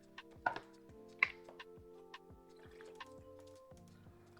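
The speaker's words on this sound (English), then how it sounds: "let me get some water" Water is poured for a drink in a quiet room, with soft gurgles, a few splashy drips and light clinks, faint and close.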